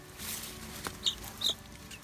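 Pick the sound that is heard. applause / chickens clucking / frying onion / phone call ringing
chickens clucking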